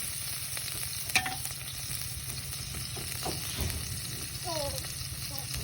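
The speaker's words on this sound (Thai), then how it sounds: "ผัดเห็ดจ้าพี่น้อง" Termite mushrooms and pork belly stir-fried in a pan, giving a steady close sizzle with intermittent scraping stir strokes, and a voice speaks briefly over it.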